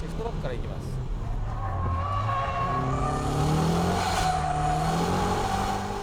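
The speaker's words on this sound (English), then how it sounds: "Kick the gas all the way in third gear. Brake, steer, then boom." A car drifts using a shift lock in third gear, its engine revving hard and rising in pitch with tire squeal mixed in, loud and close, while someone talks over it.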